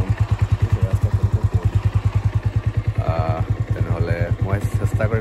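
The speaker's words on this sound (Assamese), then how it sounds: "বাইক লৈ যাওঁ ওলাইছোঁ" A motorcycle engine putters close by with a fast, regular thumping beat while being ridden on a foggy road; a person talks briefly over the engine noise.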